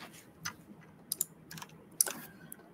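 Typing on a mechanical keyboard fitted with silent silver switches: soft, scattered keystrokes with muted clicks at an uneven pace, close but quiet, with no talking.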